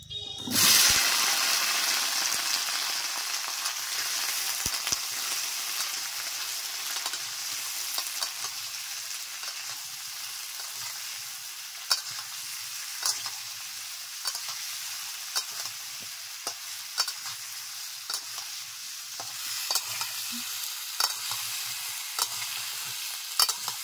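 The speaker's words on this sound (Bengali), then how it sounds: "দেখো তেল গরম করে নিলাম। দিয়ে দিচ্ছি কুমড়ো" Pumpkin pieces dropped into hot oil for a village-style pumpkin and shrimp dish set off a loud, steady sizzle that settles into continuous frying hiss, with occasional stirring clatter and pops, no voices.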